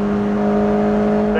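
A car on a canyon road running past at speed, a loud sustained engine tone with a steady pitch and rising whir near the end, close by and not masked by talk.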